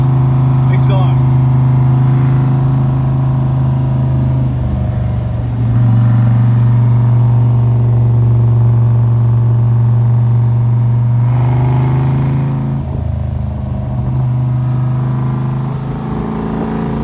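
1967 Corvette C2 with a swapped big block, its exhaust rumbling loudly and steadily while cruising, tone dipping and rising with shifts, with people talking inside the car.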